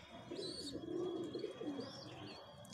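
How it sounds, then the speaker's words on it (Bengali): A fulsira male breeder pigeon cooing softly in low, rolling phrases, faint and close, with a few light chirps in the background. "এই একটি ফুলসিরা নর পায়রা আপনাদের দেখাচ্ছি"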